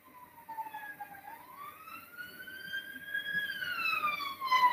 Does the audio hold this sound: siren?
yes